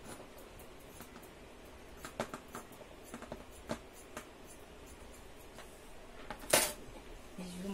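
Scissors snipping the extra edges of fabric for a homemade face mask, a series of soft close cuts and taps, followed by a brief louder rustle of material, quiet and without talk.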